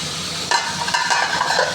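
Pumpkin fries in a pan for a mixed winter vegetable dish, with a steady close sizzle and a utensil clinking and scraping against the pan as the pieces are stirred.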